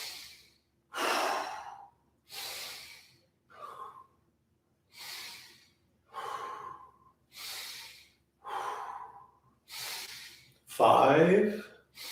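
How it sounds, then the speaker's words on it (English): Repeated breaths drawn in through the nose and let out through the mouth during a vocal warm-up, about eight loud, close breath cycles in a steady rhythm, ending with a strained, voiced gasp. "In through the nose, out through the mouth."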